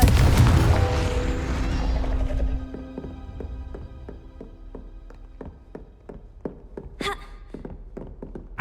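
Confringo fire spell blasting in the Hogwarts Legacy video game: a loud broadband explosion burst opening the clip and decaying over two seconds, followed by a steady series of sharp, evenly spaced thuds and another bright crackling blast near the end.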